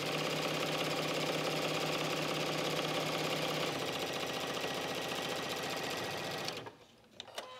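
Sewing machine stitching a faux suede belt, running steadily and loud for several seconds with a shift in pitch as it back tacks, then stopping abruptly near the end.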